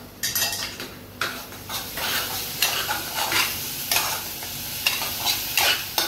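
Tomatoes with salt frying in a pan for a spicy Agri-style Maggi masala, stirred with a utensil that scrapes and clinks against the metal in repeated strokes over a steady close sizzle.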